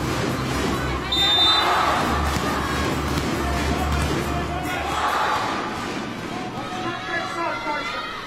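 Huge crowd of Japanese fans at a 2018 volleyball world championship match against the USA, rattling thousands of handheld clappers in a dense, continuous roar with swelling bursts of cheering throughout.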